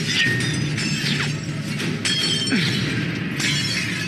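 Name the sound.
stained glass smashing in the film Daredevil (2003)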